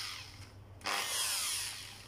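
Bosch GSB 550 impact drill in hammer mode, starting up abruptly partway through and running loud and close with a steady hammering whine, after a quieter low hum.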